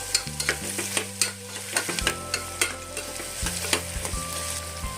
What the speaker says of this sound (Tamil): இது இப்போ நல்லா கோல்டன் ப்ரௌனில் வந்து நல்லா ஃப்ரை ஆகணும்.